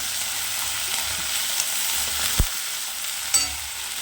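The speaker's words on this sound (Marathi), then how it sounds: "सर्व भाज्या टाकायच्या आता इथं आणि परतून घ्यायच्या" Mixed vegetables, including broad bean pods, chickpeas, carrots and peas, sauté in a pan for a Maharashtrian Bhogi vegetable dish, a steady frying hiss with a couple of sharp clinks from stirring, no talking.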